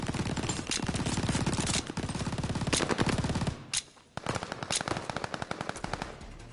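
Rapid automatic gunfire from a video game rattles in long, loud bursts, breaks off for a moment, then starts again in dense volleys.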